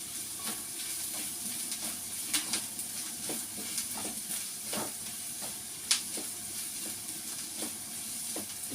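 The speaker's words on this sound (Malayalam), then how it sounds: "സവാള വഴന്ന് വന്നിട്ടുണ്ട്." Sliced onions sauté in a pan for a prawn roast, a soft continuous sizzle and hiss with scattered stirring scrapes and small taps, close and fairly quiet, no voices.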